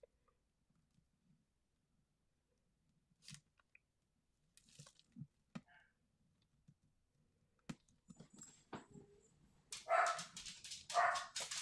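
Dogs bark in a few sharp, fairly near bursts near the end, after a mostly quiet stretch of faint clicks and small movements.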